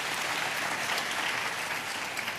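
A church congregation claps during a sermon: dense, steady applause fills the whole stretch at a moderate level, with no voices over it.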